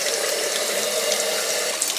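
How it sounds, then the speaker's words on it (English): Tap water runs steadily into a cooking pot, a close, even rushing stream that fills the whole moment without talk. "So just fill it up with water"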